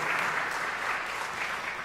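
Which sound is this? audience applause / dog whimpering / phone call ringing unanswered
audience applause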